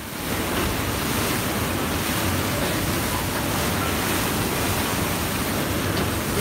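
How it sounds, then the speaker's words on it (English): Water rushing and splashing over a Paris river tour boat near the Eiffel Tower, a loud continuous wash of spray and wind noise with no talk. "the water's coming over the boat."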